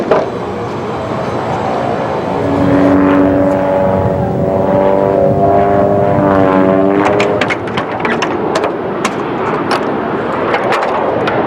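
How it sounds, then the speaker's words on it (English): Aircraft roaring overhead at the Canadian International Air Show, a loud, continuous engine rush that swells and shifts pitch as it passes, with sharp crackling bursts toward the end. "People gather from miles around to see aircraft of all kinds."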